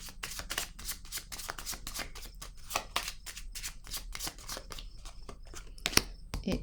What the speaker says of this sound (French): je vais déposer une carte ici et je vais déposer une carte là